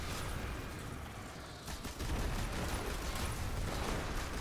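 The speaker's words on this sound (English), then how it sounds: "There's just so many explosions with this build." Explosions and gunfire erupt in the shooter game Destiny 2, where a grenade-heavy build sets off a dense, continuous clatter of blasts and shots that briefly dips before surging louder again.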